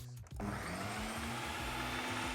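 A Ninja CREAMi Deluxe spins up and keeps whirring steadily as it mixes pistachio ice cream, a close, even motor drone that starts after a short pause and runs alone.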